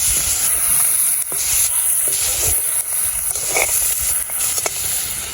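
Crab and prawns frying in a pan, a steady loud sizzle and hiss running throughout with brief spits and crackles, no voices.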